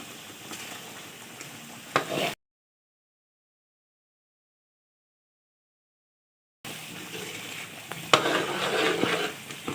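Masala for beef kofta fries in ghee, with a steady, moderately loud sizzle and stirring scrapes. The sound cuts to silence for a few seconds, then the sizzle returns with sharper clinks.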